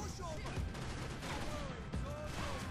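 AK rifle fire in the shooting video game Max Payne 3: dense overlapping bursts of gunshots with in-game effects, continuous and loud through the whole moment, with a player's voice heard faintly over it.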